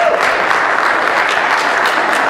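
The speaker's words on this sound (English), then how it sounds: "Let's give Janice a round of applause." An indoor church congregation applauding an organist at a Sunday celebration service, dense sustained clapping from a sizable crowd, close and loud, steady throughout with no talking.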